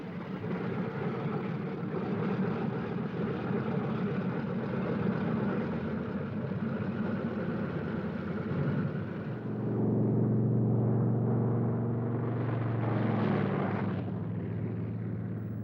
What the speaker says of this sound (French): Des B-17 transformés en drones, profondément modifiés et télécommandés à partir du sol décollent.